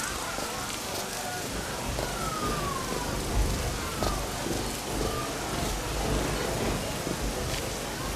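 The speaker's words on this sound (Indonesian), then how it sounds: "Lihat hujan ini." Steady rain pours down in the town of Haran, a soft continuous hiss with low rumbling underneath and no pauses.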